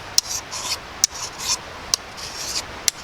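A hand file rasps against the steel edge of an Ontario 12-inch sawback machete during sharpening, giving four short, sharp strokes about a second apart with softer scraping between them.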